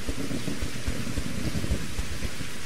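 Rain begins in the Reign of Kings video game, a steady loud wash of falling rain with low rumbling underneath, continuous and even throughout.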